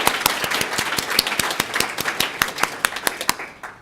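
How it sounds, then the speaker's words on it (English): A small audience at a talk on empathic design and ME/CFS claps in thanks, a short burst of fairly close individual hand claps with a loose, uneven rhythm that tapers off at the end. "So Jake, we have a round of applause for Jamin."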